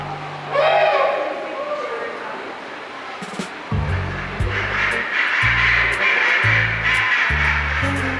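A chinstrap penguin at SeaWorld Orlando's Antarctica habitat gives a loud, brassy call near the start, then someone narrates over continuous colony noise.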